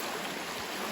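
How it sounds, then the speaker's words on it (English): Steady broadband rush of a river flowing beside a hiking trail, a continuous, fairly close wash of moving water with no voices. "They say this river can get waist deep"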